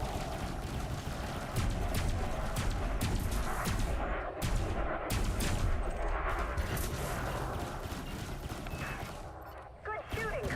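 Spaceship weapons fire in Elite Dangerous during PvE bounty combat, a dense, continuous barrage of booming shots and blasts rolling over steady engine hum, with no clear pauses.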